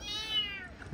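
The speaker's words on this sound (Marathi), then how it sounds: "मांजर कुठं ओरडते" A single drawn-out cat meow, high and wavering, close and fairly loud, trailing off near the end with faint background noise.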